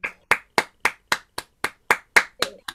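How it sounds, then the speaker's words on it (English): Steady hand claps at an online poetry event, about eleven sharp, evenly spaced claps from what sounds like one or two nearby people, with no voices. "can we have an unmute and have an enormous round of applause for Charlotte Emily Lunn"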